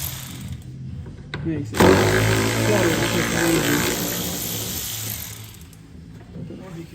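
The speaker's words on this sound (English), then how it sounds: "The battery ratchet." A battery-powered ratchet whirs steadily while undoing the rear bumper fasteners on a Mazda 2, its close motor whine running under a man's speech.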